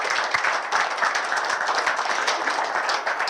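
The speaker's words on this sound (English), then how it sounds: "Round of applause for Charlie Robson" An audience applauds an executive director entering the room, a steady, dense wash of many hands clapping at moderate distance, sustained evenly throughout without voices.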